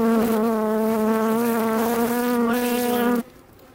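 Honeybees buzz steadily and loudly around a newly installed nuc hive, a sustained drone with wavering tones that cuts off abruptly near the end.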